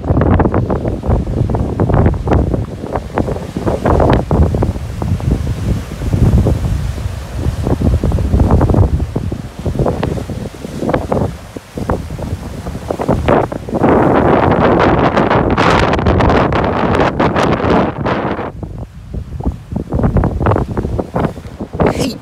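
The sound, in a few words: strong wind and rough, lumpy sea at a Corfu beach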